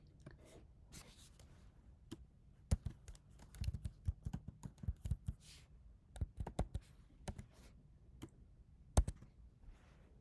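Irregular bursts of soft keyboard clicks, typing in short runs with pauses, quiet and close, no voices.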